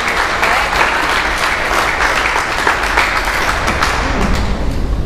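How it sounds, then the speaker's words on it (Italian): Loud, dense applause from an audience after an accordion performance at an Italian music evening, a continuous wash of many hands clapping close by. "Un applauso data a Gianluca."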